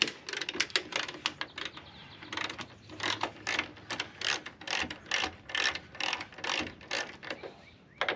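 A hand ratchet loosens a 10 mm bolt on a pickup tailgate, clicking in quick bursts of sharp pawl ticks with brief pauses between strokes, close and fairly loud with no talking.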